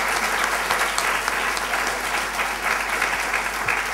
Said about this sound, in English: I'm sure he deserves another round of applause for the information and the wisdom